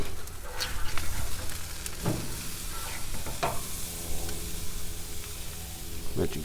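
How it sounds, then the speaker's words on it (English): A rib eye steak sizzles steadily on a BBQ grill, a dense continuous hiss with a few scraping clanks as it is turned over, fairly close and loud throughout. "We're getting ready to flip this steak."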